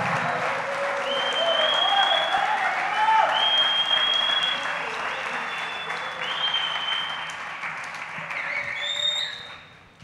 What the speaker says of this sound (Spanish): Podríamos darle un fuerte aplauso al Espíritu de Dios,